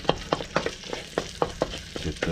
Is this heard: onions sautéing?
yes